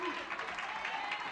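Applause from a duckpin bowling crowd at a 1990 women's match in Prince George's, a steady dense patter filling the whole moment at moderate volume, with a commentator's voice running over it.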